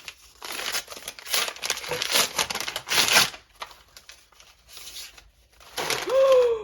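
Paper wrapping crinkles and tears in bursts of rustling as a glass Derma E skincare item is unwrapped, close and fairly loud, with short pauses between handfuls and a brief voice near the end.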